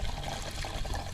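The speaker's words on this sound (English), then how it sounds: "Now I'm going to wash my hand off after this." Tap water runs steadily over a hand being washed, a close, soft, continuous rush and trickle with no talking.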